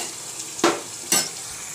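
Masala and fried onion stirred in a sizzling pan while cooking Kolhapur-style chicken: a steady soft sizzle broken by two brief, sharp scraping stirs, close and moderately loud.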